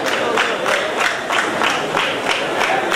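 A crowd claps and cheers in steady, overlapping bursts, a dense continuous wash of applause at moderate loudness with rhythmic swells throughout.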